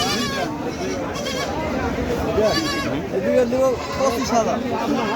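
Jamunapari goats bleating repeatedly at the Baneshwar livestock market in Puthia, Rajshahi, several close overlapping cries over a busy background of crowd chatter and people talking.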